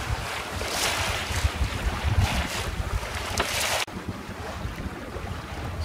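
A sailboat moves along at about six knots, with continuous rushing wind buffeting the microphone and waves washing against the hull throughout; no one speaks.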